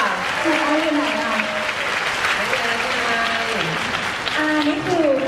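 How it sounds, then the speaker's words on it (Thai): Live talk-show audience applauding: a dense, steady wash of clapping from a crowd, with voices speaking over it throughout. "ก็จะปรบมือให้กับคุณอา"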